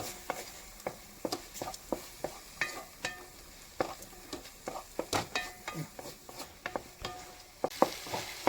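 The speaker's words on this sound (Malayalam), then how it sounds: "നമുക്കിത് നന്നായിട്ടൊന്ന് ഇളക്കാം." Tomato rice with masala stirred in a pan: a spoon scrapes and taps the metal in a quick, irregular rhythm over a soft, faint sizzle, close by and with no talking.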